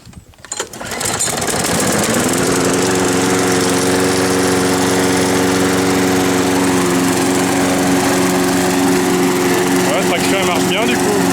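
Frigidaire lawn mower cutting in mulching mode, its engine with the choke held open catching after a rough start and then droning loudly at a steady pitch close by.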